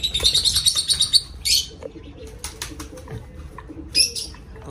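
Birds chirp in quick bursts while pigeons flap their wings nearby, with a steady outdoor background and a few short flutters.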